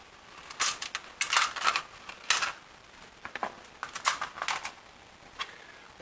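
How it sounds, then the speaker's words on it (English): Scissors cutting open the thin aluminium wall of a Foster's beer can, giving a series of close crisp snips and crinkling metal crackles in irregular bursts, with no talking. "And the center section, I'll cut open with scissors."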